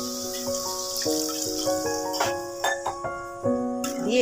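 About a cup of hot water is poured into a pot of braised chicken curry, a steady splashing trickle with small drips, heard under soft background music.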